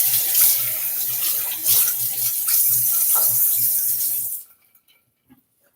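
Tap water runs into a sink to wet a shaving brush, a loud close steady splashing that stops abruptly, leaving near silence.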